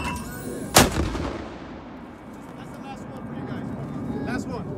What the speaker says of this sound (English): Mortar!